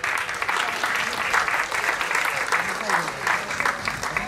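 Sustained applause from a crowd for a young female racing driver at a motor slalom event in Oppido Mamertina, steady clapping filling the whole stretch at moderate loudness with a voice talking over it.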